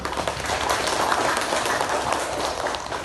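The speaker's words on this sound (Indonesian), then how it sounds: "Beri tepuk tangan untuk kelompok 1." A primary school class of fourth and fifth graders applauds a student group, producing a dense, continuous rush of clapping at a steady, fairly loud level from start to finish.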